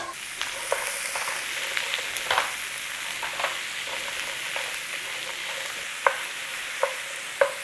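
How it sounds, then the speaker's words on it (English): Onions, carrot and celery sauté in a pan, a steady close sizzle with occasional sharp clicks of a utensil stirring and tapping against the pan. "Give that a little saute in there"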